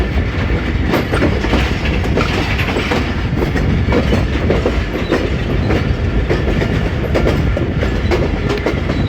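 Rehman Baba Express passenger train pulling out of Lala Musa station in Pakistan, a steady close rumble of wagons with rhythmic clickety-clack wheel beats running throughout, loud and continuous with no talk.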